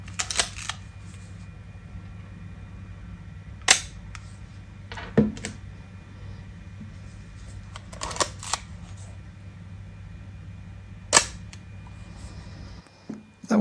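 Leica M2, M3 and MP rangefinder shutters fired one after another, several crisp isolated mechanical clicks spaced a few seconds apart, close and distinct over a faint low hum.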